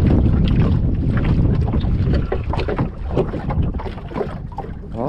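Strong wind off the sea buffets the microphone in loud, continuous roaring gusts, with churning water and waves below, heard alone without voices.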